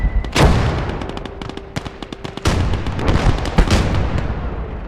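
Sniper rifle gunfire in the WWII multiplayer game Gates of Hell, with several sharp, loud cracks and booming reports spread across the stretch amid constant battlefield rumble and distant explosions, no voices.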